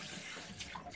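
Hot water runs from a tap and is splashed onto a face at a bathroom sink during a wet shave, a steady close hiss with small splashy surges.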